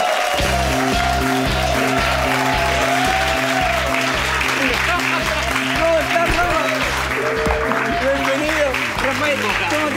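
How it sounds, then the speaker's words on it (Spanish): A studio audience applauds the arrival of guest Rafael Cavada on a late-night interview show, a broad wash of clapping partly buried under loud, rhythmic band music playing throughout. "quiero saludar con un fuerte aplauso"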